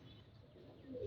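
Pigeons coo softly in a short, faint burst, a low throaty call that swells near the end against a quiet background.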